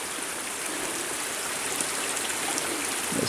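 Creek water pours steadily out of a culvert beneath a road and spills into a canal, a constant close, full rushing wash with no pauses and no voices.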